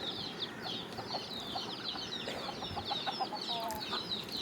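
Several free-range country chickens cluck and chatter continuously nearby at feeding time, their busy overlapping calls filling the scene with no talking.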